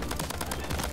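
Rapid bursts of gunfire from a weapon fired from the hip in a roguelike shooter game, a dense rattling string of shots with an even, fast rhythm.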